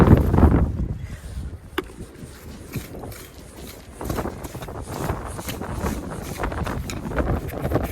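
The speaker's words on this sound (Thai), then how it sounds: "เสียงลมอาจจะแรงหน่อยนะทุกคนนะสู้ไปด้วยกันนะ" Strong wind buffets the microphone on a beach during shellfish digging, a continuous rough rumble with gusty swells and scattered knocks, with no talking.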